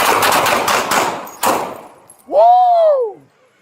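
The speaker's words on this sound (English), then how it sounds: "Shots fired! Shots fired!" Police bodycam capture of a shooting incident: a rapid, loud burst of sharp impulsive gunshots in quick succession, followed by a loud shouted voice.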